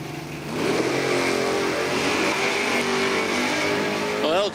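Drag racing cars, including the quick Camaro 582, launch down the strip at Numidia Dragway, a loud sustained engine roar building and holding steady, with a higher rising rev whine near the end.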